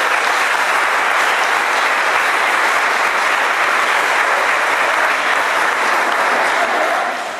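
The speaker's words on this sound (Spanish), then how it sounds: "Fuerte el aplauso entonces" A crowd at a club's 65th anniversary celebration in San Francisco, Argentina applauds loudly and continuously, a dense wash of clapping that holds steady before tapering slightly at the end.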